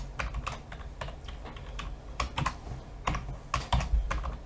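Typing on a computer keyboard while entering a password for an account sign-up: irregular bursts of close, crisp keystrokes, with no talk.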